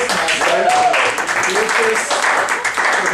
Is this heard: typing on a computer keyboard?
no